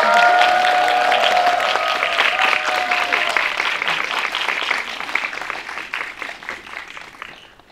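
An audience at a Korean film screening Q&A applauds as the director, original author and voice actress come to the stage, a dense clapping that starts strong with a voice over it and slowly thins out.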